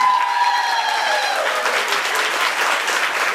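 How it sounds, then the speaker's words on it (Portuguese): Audience applause for a couple at a celebration, steady and full crowd clapping throughout with a faint voice fading out at the start. "Uma salva de palmas para esse casal."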